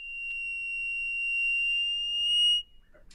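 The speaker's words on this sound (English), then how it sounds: "It's a black and gold Katinga." A recorded black-and-gold cotinga song played back: one long, pure, steady whistled tone that holds evenly for about two and a half seconds and then cuts off sharply, clear and loud against a quiet room.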